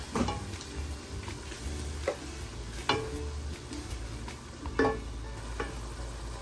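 Ground spices for chicken bharta, made restaurant style, sizzle and fry in a pan, with a constant hiss broken by a few sharp spoon scrapes and stirring knocks, close up and with no talking.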